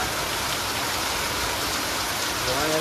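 Steady, dense rain hissing down on surfaces, a continuous wash of patter with no pauses and no voices.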